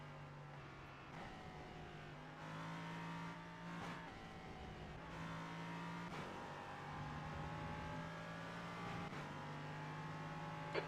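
Racing simulator engines at the Mugello circuit, with a steady engine drone and rising harmonic whine as slower race cars are approached and passed, continuous and fairly loud without talk.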